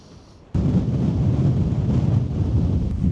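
On a hilltop at Glastonbury Tor, after a brief quiet moment, strong wind suddenly roars across the microphone and keeps buffeting it in a heavy, rumbling gust.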